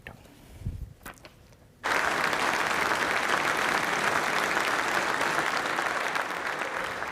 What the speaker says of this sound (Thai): ปรบมือชื่นชมผู้นำสหรัฐและผู้เกี่ยวข้องกับการเจรจาทุกคนนะครับ